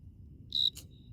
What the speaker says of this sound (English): Can you hear me over the cricket?